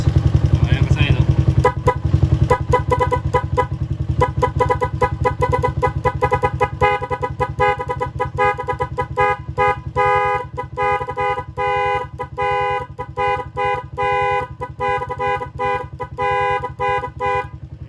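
A Jialing TMX125 Motorstar 125 motorcycle idles nearby while its horn blares in a long steady tone, then breaks into rapid repeated beeps that chop on and off; someone talks over the start.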